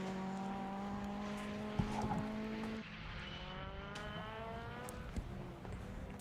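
A race car pulling out of the hairpin at the Knockhill circuit: a distant engine note whose pitch steps up through the gears as it accelerates, with short sharp bursts near the middle.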